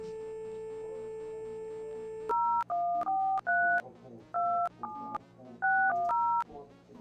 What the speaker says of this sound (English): Ooh, I need to pick the phone up first.